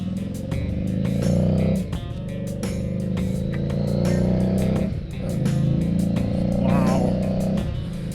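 A 2015 Harley-Davidson Street 750 engine rumbles loudly and close while being ridden, a steady low droning throb that rises and dips with throttle changes, accompanied by clicking blinker ticks and a speaking voice over the top.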